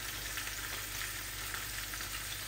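Pieces of fish frying slowly in hot oil produce a constant, even sizzle with no voices or other noises.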